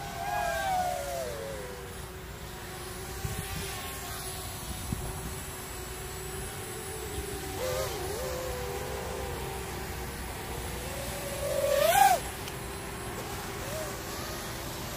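Small Tyro99 FPV drone on a speed run flyby over an open field, its motor whine rising and sweeping past, strongest near the end, over steady background noise.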